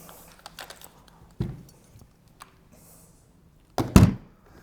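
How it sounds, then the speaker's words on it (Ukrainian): Metallic mechanical clacks from an FN Minimi M249 machine gun: a sharp snap as the cover closes partway through, then a louder double clack as the bolt is pulled back near the end, with light handling clicks in between. "Після цього достатньо закрити кришку і відвести назад затвор."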